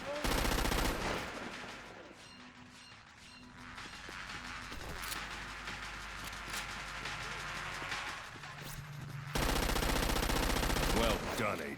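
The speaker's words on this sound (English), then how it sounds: "Yeah, this is another SMG." Submachine gun fire in the Xbox 360 game Crackdown 2 rips out in dense, loud automatic bursts at the start and again near the end, with quieter in-game sounds in between.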